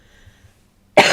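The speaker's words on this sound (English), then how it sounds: "I knew I was going to have to cough at least once during this" A single sharp cough from a person at a craft table, loud and close, bursting in after near silence with faint rustling.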